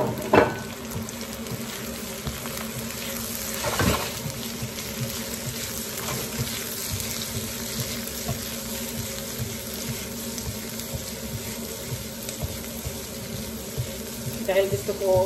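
Vegetables going into a hot pan for pancit canton, giving a steady sizzle with scattered clatters and stirring scrapes, while a person talks over the cooking.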